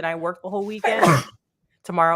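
A brief sharp sneeze bursts out mid-conversation, a single explosive noisy blast between stretches of close talking by a person on a casual chat podcast.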